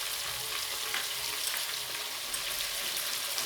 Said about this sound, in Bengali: এখানে 2 চামচ মতো আদা রসুন বাটা দিয়ে দিলাম।